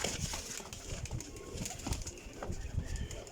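Young pigeons coo softly in a loft, a continuous low burbling with scattered chirps and wing rustles, close but fairly quiet with no clear talk.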